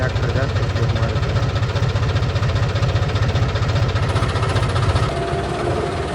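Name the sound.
tractor engine running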